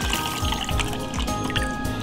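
Ice-cold water pours steadily in a continuous liquid stream with faint gurgles, close by and moderately loud, with no talking.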